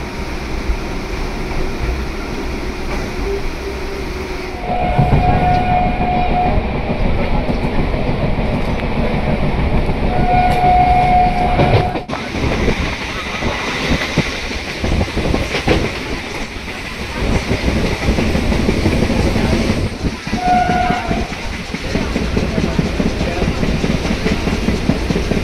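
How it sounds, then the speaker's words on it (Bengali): An early-morning local train running in the Kolkata region, a loud close rumble of carriages with rhythmic clickety-clack, some squeals and a brief drop in noise partway through, heard from inside for about twenty-five seconds with no talk. "একদম এক্সাক্ট টাইমে ট্রেন ছেড়ে দিয়েছে।"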